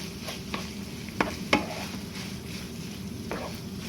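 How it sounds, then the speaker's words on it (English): A spoon stirs cauliflower rice into a ground-beef cheeseburger casserole in a pan, a few scraping strokes and knocks over a soft, low sizzle. "And stir to mix well."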